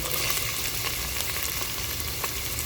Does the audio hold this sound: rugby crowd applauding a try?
no